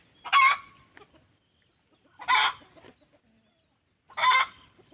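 Red hens on a Thai farm give three separate bursts of loud squawking clucks at roughly even intervals, near and clear, with quiet gaps between and no talking.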